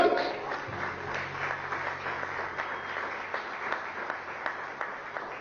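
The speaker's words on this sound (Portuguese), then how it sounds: "Dê um aplauso ao Espírito Santo" A church audience applauds the Holy Spirit with continuous, steady clapping that carries on at an even level throughout, faint voices mixing in beneath the applause.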